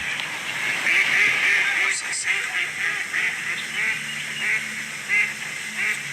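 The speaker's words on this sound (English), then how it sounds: "Not every duck sounds the same." Ducks and geese on water give a steady chorus of overlapping quacks and honks, some near and some farther off, with occasional human voices in the background.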